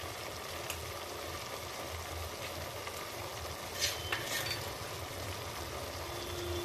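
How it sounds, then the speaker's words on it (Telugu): Mutton frying in oil in a pan, a steady low sizzle and bubbling hiss running throughout, with a couple of brief sharper crackles near the middle, no talking. "సో ఇలా బాగా ఆయిల్లో 5 minutes అనేది కుక్ చేసుకోవాలి."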